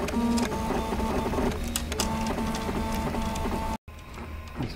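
A large 3D printer with over 200 litres of build volume runs steadily up close, its stepper motors whining in shifting tones with a continuous mechanical buzz, broken by one brief dropout near the end.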